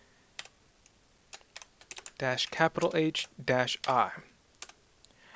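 Someone types a terminal command on a computer keyboard in a penetration testing session: scattered clicks come first, then a quick run of keystrokes under a voice speaking, and a few final taps follow.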